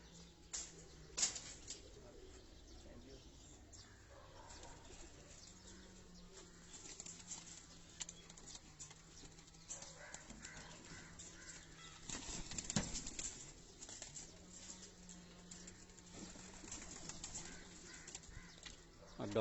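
Don breed pigeons at a loft, with soft low cooing running through much of the scene and occasional bursts of wing flapping, all fairly faint against a light background.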